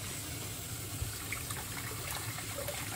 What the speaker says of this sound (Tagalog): lagyan natin ng tubig dito sa ating kaserola